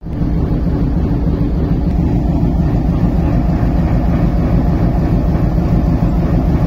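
Steady, loud rumble of the Simanta Express train at Chuadanga railway station, a continuous low roar with rattling texture and no pauses, heard from close by with no talking.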